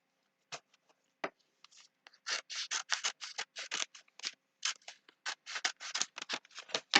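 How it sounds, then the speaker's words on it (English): Scissors snip through fabric to trim the seam allowance of a small quilted snowman-face mug rug, giving a rapid run of crisp, close cuts in quick irregular bursts with no talking. "And I'm just going to trim some of this off."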